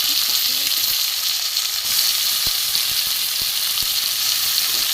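Tomato and onion, added after garlic, fry in oil in a pan for a Bengali river fish curry. They give a loud, constant hissing sizzle with a few faint clicks and no speech.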